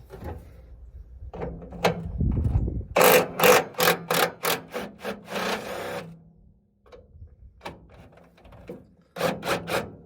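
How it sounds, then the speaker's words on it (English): A 15 mm wrench works bolts loose on a 1968 Ford F-100 during front clip removal. Bursts of rapid metallic clicking come in quick rhythmic runs, separated by short pauses and scraping handling noises. "we grab our 15 mil and start wrenching away"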